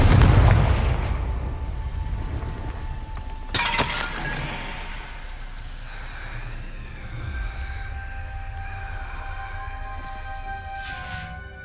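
A Confringo blasting spell cast in the Hogwarts Legacy video game: a loud, booming, crackling burst about a third of the way in, set within an ongoing rumbling game soundscape with sustained tones.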